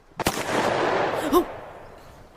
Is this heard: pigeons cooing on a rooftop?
no